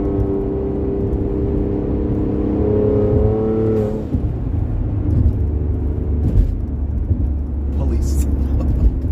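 A Ford Explorer in manual mode downshifts and then accelerates: a loud, close engine drone climbs in pitch, drops sharply at the shift, then builds again under steady road noise.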